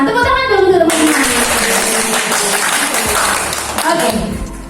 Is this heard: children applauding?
yes